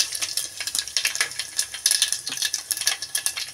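Dried red chillies, cumin and mustard seeds sizzle in hot oil in a pan, a bright, crackly spitting that pulses and rattles for several seconds, close and fairly loud with no talking.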